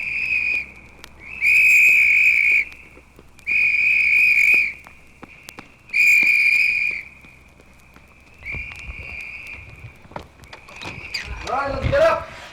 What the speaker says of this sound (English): The reveille runner's whistle and the sergeant's gentle waking voice.